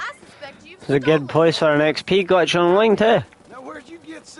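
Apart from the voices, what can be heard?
No everyday noise stands out behind the speech.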